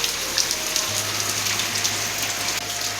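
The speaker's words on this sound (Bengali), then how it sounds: "এই যে কি পরিমাণে যে বৃষ্টি হচ্ছে" Steady rain pours down in a village, a dense hiss of drops hitting surfaces that holds evenly throughout, with a low steady hum entering underneath partway.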